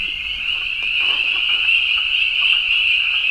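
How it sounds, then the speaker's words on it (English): A dense chorus of high, shrill spring peeper frogs calling continuously, steady and fairly loud, with no talking. "I'm going to tell you, those are peepers."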